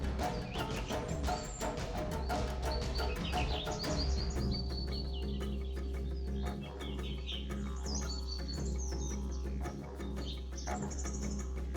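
Chirping calls of a red-wattled lapwing ring out over a steady low engine rumble, with repeated sharp bird notes scattered throughout, moderately distant, in a wildlife setting where leopards roam.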